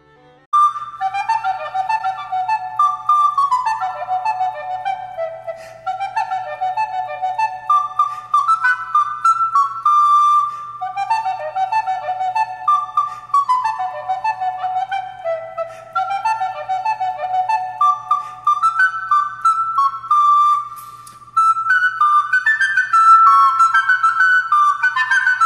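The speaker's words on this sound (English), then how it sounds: "English flute." An English flute plays a lively solo melody of clear, breathy, whistle-like notes in quick runs and phrases. It sounds close and steady, with no voices, for the whole stretch.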